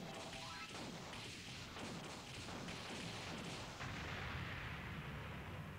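Constant rapid shooting in the arcade shooter DoDonPachi Dai Ou Jou Black Label EXTRA on Xbox 360, a dense, loud barrage of blasts and thuds that never lets up.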